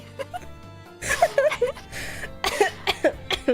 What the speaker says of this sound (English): I'm just gonna cough into your ears.